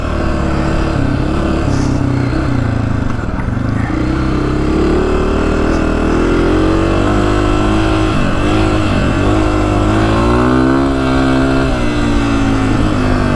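A Honda CRF150R dirt bike engine drones and revs on a hot desert trail, loud continuous engine note rising and falling, heard close over wind, no talk.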